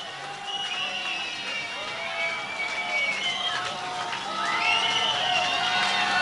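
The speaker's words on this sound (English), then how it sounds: "applaud very, very loudly, they will come back and play some more" A concert audience cheers and shouts for the band to come back for more, a dense, loud and sustained roar with whoops and whistles that swells toward the end.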